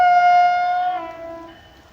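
A Metro North train passes Hastings-on-Hudson station in the rain, its horn sounding loud and close in a sustained blast that then falls in pitch and fades as it goes by, with no talk.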